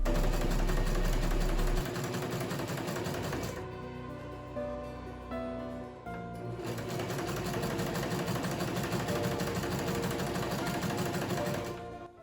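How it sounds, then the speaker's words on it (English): A home sewing machine stitches blazer lining pieces, running steadily up close with a continuous humming whir that briefly changes pitch and slows midway before resuming at full speed. "Pin the 2 back pieces of the lining together and stitch through, press the seam open"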